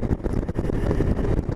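Strong wind gusts beside the busy A12 motorway in the Netherlands, buffeting the microphone in loud, rumbling pulses that rise and fall without pause.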